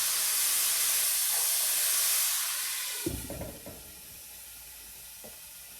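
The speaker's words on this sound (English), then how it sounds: "we're going to let this saute a little bit before adding our garlic" Onions sweating in a lidded pan over medium-high heat, a loud steady hiss that fades after a few seconds into softer sizzling with a few clanks of a lid or utensil, no voices.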